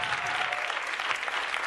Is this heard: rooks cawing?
no